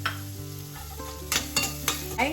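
Onions sautéing with salt in a pan for palak paneer, a steady close sizzle with a low hum beneath and four sharp stirring scrapes toward the end; no one speaks.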